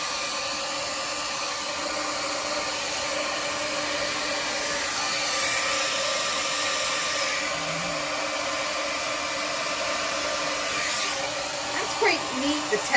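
A steady, close whoosh of a hair dryer blowing air over poured acrylic paint on rocks, holding at an even level for the whole stretch and stopping near the end.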